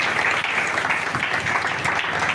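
A church congregation applauding, a dense, continuous wash of clapping from many hands filling the room for the whole stretch.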